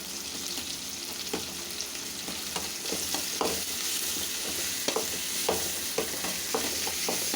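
Ginger-garlic paste sautéing with bamboo shoots in a pan gives a steady sizzle, with repeated clinks and scrapes of stirring throughout.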